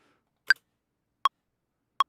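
Three sharp percussive clicks mark a slow hip hop beat at 80 BPM, evenly spaced and isolated against silence.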